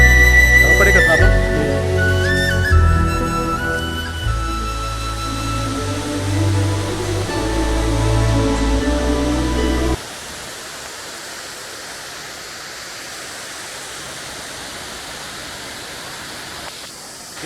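Water pours off a hilltop at Mitte waterfall in the forest, a steady broadband rush that takes over after a stretch of tonal, music-like sound in the first half.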